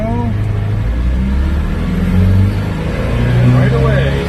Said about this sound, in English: that's double clutching. We clutch out of gear and we clutch into gear.